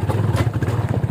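A motorcycle rides on the way to Latarambheshwor Mahadev temple, its engine close and loud with a rapid, pulsing low thrum and some clatter.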